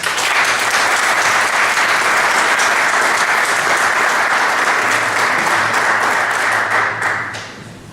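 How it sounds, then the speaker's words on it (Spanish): An audience gives sustained applause at an evening talk, a loud continuous wash of clapping that holds steady and then fades out in the last second. "Un aplauso para los dos"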